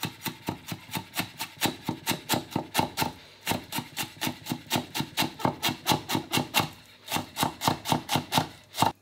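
A knife chops chicken croquette filling on a board in quick, regular strokes, a steady rhythmic knocking with a couple of short pauses, close and moderately loud.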